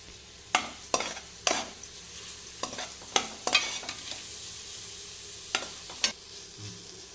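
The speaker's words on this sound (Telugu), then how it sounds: "నేతిలో అయితే వేగిపోయింది చక్కగా" Grated carrot frying in hot ghee for laddu, a soft low sizzle under sharp intermittent scrapes and taps of a spoon stirring the pan, close and fairly quiet with no voices.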